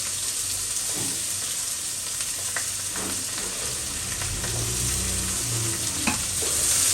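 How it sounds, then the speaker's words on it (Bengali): Chopped onions fry in a pan with a steady broadband sizzle, while a spoon stirs them in occasional scraping strokes close by; no talking. "এখানে পেঁয়াজ কুচি দিয়ে দিচ্ছি।"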